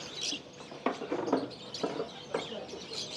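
Many birds of various kinds at a market, with chicken-like clucks and scattered chirps coming in short irregular bursts, fairly faint, with no talk over them.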